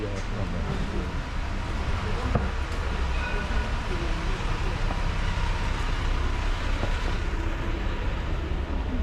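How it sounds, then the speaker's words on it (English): A long tram rolls past on an Edinburgh street, producing a steady loud rumble with faint rail clicks, while people chat nearby. "这 tram 真够长的。"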